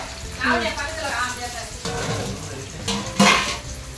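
Fish frying in a pan in a home kitchen, a continuous sizzle under clinking of utensils and pots, with a louder metallic knock near the end and a faint voice-like tone early on.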